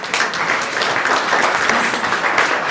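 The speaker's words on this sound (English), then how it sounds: "Give yourselves a big round of applause." Audience at a veterans heritage gathering in Sedona claps energetically, a close, dense burst of applause filling the short stretch without letup.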